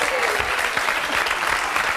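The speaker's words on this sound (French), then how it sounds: "On peut applaudir très très fort Dominique" A studio audience claps steadily and densely for two seconds, a sustained wall of applause with no breaks.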